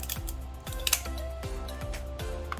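Kitchen scissors snip through a lobster tail shell in quick repeated crunching cuts, about six crisp clicks in a steady rhythm, close and fairly loud with no talking.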